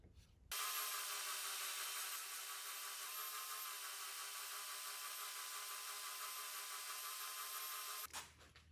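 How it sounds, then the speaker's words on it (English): A power sander grinds steadily against a wooden bass neck pocket template, a loud continuous whine holding for about seven and a half seconds, starting and stopping abruptly with no talking. "Now all I have to do is run that through the sander."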